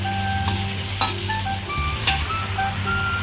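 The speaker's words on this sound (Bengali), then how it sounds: "এর সঙ্গে ভালো করে একটু নাড়াচাড়া করে দিচ্ছি।" Spices are stirred into pumpkin pieces in a sizzling pan, with a few sharp spoon scrapes against the pan over a steady close fry and no talking.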